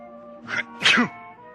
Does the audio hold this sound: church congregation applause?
no